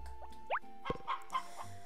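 Cartoon chickens from a Harvest Moon game cluck in short, soft, separate blips with a quick rising chirp, sparse and quiet against near silence.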